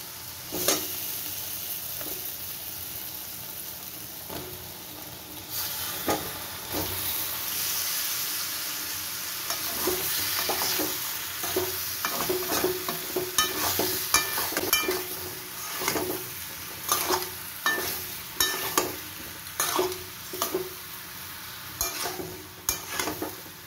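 Potatoes being fried with spices and cumin powder in a pan, a quiet sizzle that builds into a run of sharp, rhythmic spatula scrapes and knocks against the metal, close and increasingly busy, with no one speaking.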